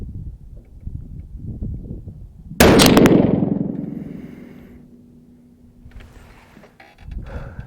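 A 6.5 PRC rifle fires one sharp, loud shot outdoors, a sudden blast that rings and decays over several seconds amid wind noise, with faint background rustle before and after.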